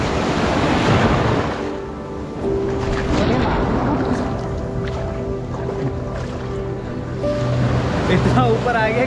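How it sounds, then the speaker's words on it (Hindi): Ocean waves at Anjuna Beach in Goa wash and surge loudly up the shore in the morning, with wind buffeting the microphone and people talking over the steady rushing surf. "क्या वेव आ रहा है भाई सुबह सुबह।"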